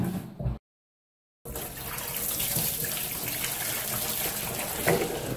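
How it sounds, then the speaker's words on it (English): Hot water gushes steadily into a container close up after a short pause, a continuous splashing pour with no talking. "Some hot water."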